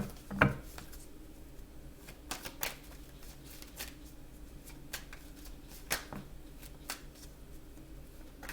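Tarot deck being shuffled by hand, a series of soft riffling and tapping bursts at irregular intervals, close and quiet, with no talking.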